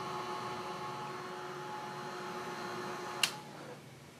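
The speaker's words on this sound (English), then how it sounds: "coming in with the heat gun and watching your powder to see when it turns glossy" A heat gun blowing steadily while melting embossing powder, a constant whirring hiss with tonal fan hum, cut off by a sharp click as it switches off and the whir fades.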